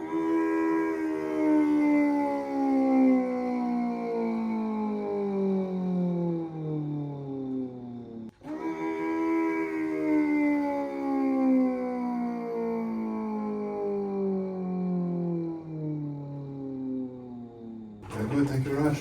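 A human voice imitating an Audi car engine with the mouth, two long revving sweeps that rise and fall in pitch, loud and close, ending with a brief noise burst.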